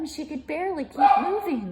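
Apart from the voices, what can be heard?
dog barking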